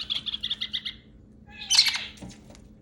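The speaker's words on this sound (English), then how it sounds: "Yes, that's a Kakariki talking just like that." A kakariki parrot gives a quick run of rhythmic chattering calls, then a louder, harsher squawk up close, with no people speaking.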